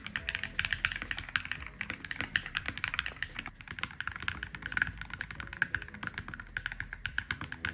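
Clacky mechanical gaming keyboard switches, unlubricated, typed on in a steady, fast stream of close, crisp key clicks with no talking.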